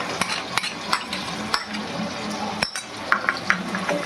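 Stirring green chili, ginger and garlic paste into fried onions in a pan for prawn pulao, with scraping spoon clinks and sharp taps against the pan over a soft bubbling fry.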